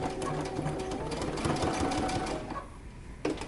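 A home sewing machine runs in a steady, continuous whir while stitching close to the edge of a dress collar, loud and close for most of the stretch, easing off briefly near the end before a short final burst.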